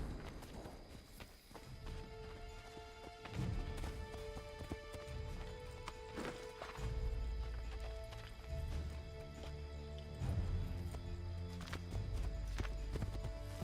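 Horse hooves clip-clopping in a video game, a steady rhythmic walking beat of hoofsteps up close, with occasional snorts and ambient game sounds underneath.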